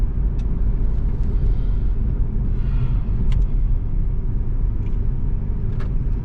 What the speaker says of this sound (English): It's creeping forward, and obviously we still got that pulley squeal.